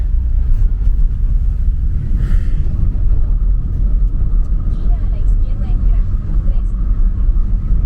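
Steady low rumble of a car ride through Bogotá toward a hotel, road and engine noise filling the cabin continuously with faint traffic sounds and voices in the background.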